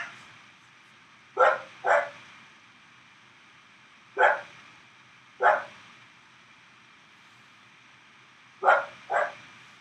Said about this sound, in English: My dog picked an odd timing to start barking.